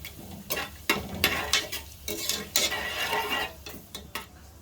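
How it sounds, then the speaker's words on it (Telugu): Whole spices frying in hot oil in a pan, with a soft sizzle under repeated scraping and clinking of a spoon stirring against the pan in an irregular rhythm, close and moderately loud. "సరే అయితే కలుపుకుందాం. కొంచెం వేగలు."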